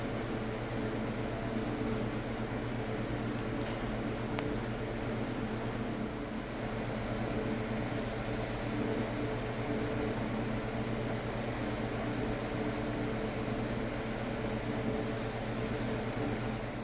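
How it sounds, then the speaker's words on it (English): Steady hand sanding of a sanding sealer finish on a rustic wooden box, a continuous even rubbing hiss running unbroken and close for the whole stretch. "After I've sanded down my sanding sealer"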